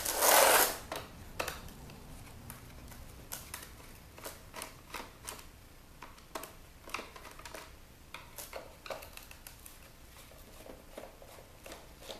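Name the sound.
screws being removed from the back of a LeapPad toy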